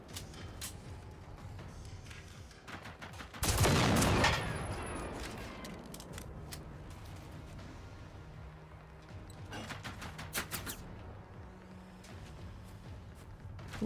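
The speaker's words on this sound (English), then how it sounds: "Who else is shooting at me?" Gunfire aimed at the player in Generation Zero, scattered shots and short bursts around a loud crashing blast, then further volleys of rapid shots at moderate distance.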